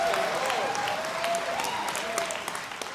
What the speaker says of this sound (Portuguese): Eu aplaudo vocês.